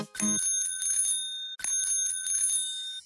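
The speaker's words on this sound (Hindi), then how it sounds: "टन टन टन टन घंटी बजाते" A bicycle bell from a Hindi children's rhyme rings in two quick bursts of bright metallic dings, separated by a short pause. The bell is close and clear, with no voices.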